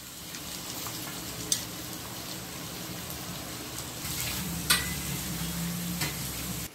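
A steady sizzle of frying in a hot pan, with occasional sharper crackles and a light stirring clink or two.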